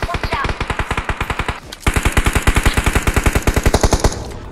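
Automatic gunfire rattles in an online shooter game: two long, evenly spaced bursts of loud rapid shots, close and dominant, with a brief pause between them.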